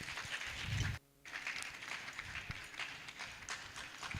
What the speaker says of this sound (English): That's a very encouraging round of applause